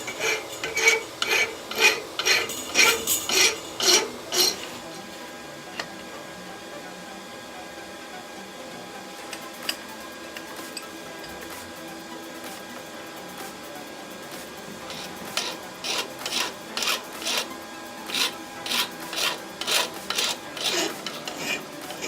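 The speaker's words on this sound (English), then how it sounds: "but I've got these bastard files" A bastard file rasps across forged metal while a beginner blacksmith shapes a BBQ toasting fork. Rhythmic back-and-forth strokes come at the start and again near the end, with a quieter steady stretch in between and no talking.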